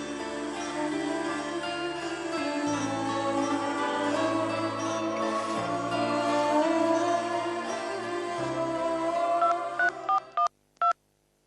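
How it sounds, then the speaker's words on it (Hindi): A telephone is dialed with a quick run of separate DTMF keypad tones near the end, played over loud sustained background music in an indoor scene. "हम करण को फोन करके बता देते हैं, हमारे ना आने की वजह से वो परेशान हो रहे होंगे"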